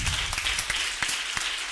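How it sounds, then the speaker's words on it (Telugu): A church congregation claps together in a brief burst of audience applause, with scattered sharp claps over a short span and no voices. "ఒకసారి గట్టిగా చప్పట్లు కొడతారా?"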